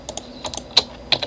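Keys tapping on a computer keyboard during Blender 3D modelling work, a handful of light clicks spread unevenly with two sharper, louder presses standing out, close and alone without talk.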